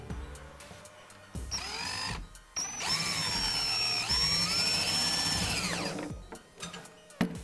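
Power drill driving a small self-tapping screw into a PVC pipe Halloween spider prop, a loud rising and falling whine lasting several seconds with short bursts before and after, up close.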